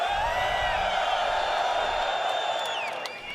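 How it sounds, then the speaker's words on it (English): A convention hall crowd at CitizenCon, the Star Citizen fan event, screams and cheers in a loud, sustained wall of noise that fades slightly toward the end. "If you're in Hall A, let me hear you scream."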